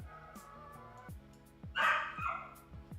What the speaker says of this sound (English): can people hear my dog barking or no?